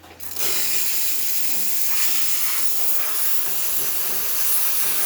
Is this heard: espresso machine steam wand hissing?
yes